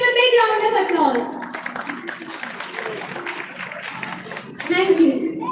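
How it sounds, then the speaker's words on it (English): An audience claps at a children's annual function after a dance performance by small kids, with dense applause in the middle and voices talking over it at the start and end. "So, please give them a big round of applause."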